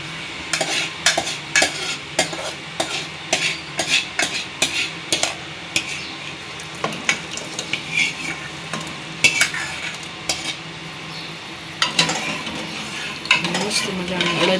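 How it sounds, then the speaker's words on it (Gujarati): A ladle stirs a sizzling urad dal tempering in a metal pot, giving a brisk run of close, rhythmic scrapes and clinks over a low frying hiss. The strokes slow and grow sparser toward the end. "ચાલો આપણે મિક્સ કરી લે બધો વઘાર"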